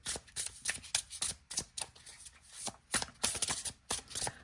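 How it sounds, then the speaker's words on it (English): Tarot cards are shuffled repeatedly close up, a quick series of crisp riffling bursts and soft flicks with short pauses between. "ASMR for shuffling. Listen to that."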